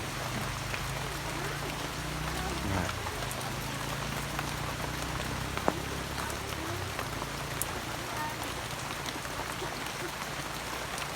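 Steady rain falls during a COVID quarantine in rural Thailand, a dense continuous hiss of drops on surfaces lasting throughout, with a low rumble and faint voices underneath.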